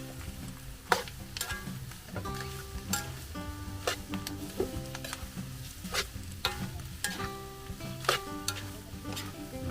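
Chopped beef lung dropped into a pan with onion and garlic, frying with a steady low sizzle broken by sharp clinks and scrapes of a utensil stirring against the pan.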